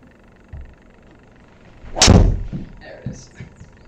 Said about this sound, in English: That was a good swing. Felt good. Ball's going straight down the fairway.